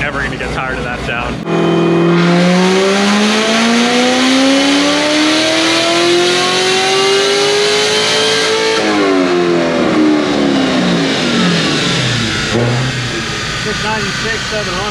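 Cammed Corvette Z06 engine revving hard on a dyno, a loud sustained climb in pitch that peaks, cuts out and drops back, heard up close with people talking over it.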